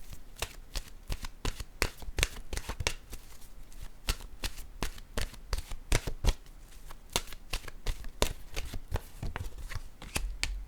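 Tarot-style cards are handled and shuffled close by, producing quick irregular riffling flicks and soft slaps throughout at low volume, with no talk.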